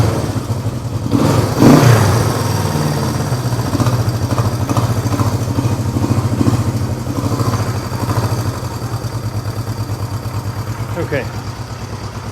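A Honda CB350 motorcycle engine reported to have low compression starts and runs at a rapid, steady idle, loud and close, with a brief spoken word near the start and a few sharp clanks later.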